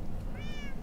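A single short cat meow from Minecraft rises clearly over a low, steady background of game ambience, brief and close.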